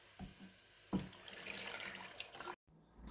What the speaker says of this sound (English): It's time to add some water to my pot.